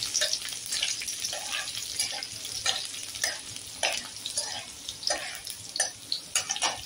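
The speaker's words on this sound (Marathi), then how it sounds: "लसणाला चांगलं फ्राय करून घेईल." Finely chopped garlic sizzling in a hot pan while being stirred, a steady frying hiss with scraping strokes of a spoon, close and fairly loud, with no talking.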